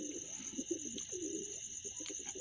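Pigeons coo in a pigeon loft, a continuous low murmuring of overlapping coos with a few faint chirps over a steady high-pitched background hum.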